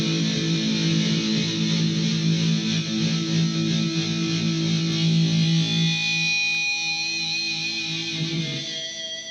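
Electric guitar power chords run through distorted, heavily processed original effects, a dense sustained wash that thins and fades toward the end, with no talking.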